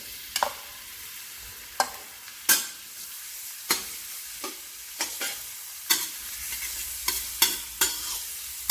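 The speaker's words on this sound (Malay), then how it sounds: "kemudian tumiskan bawang merah, bawang putih" Shallots and garlic stir-fry in olive oil in a duck dish, a close, continuous sizzle broken by a dozen sharp scraping strokes of the spatula at an uneven pace.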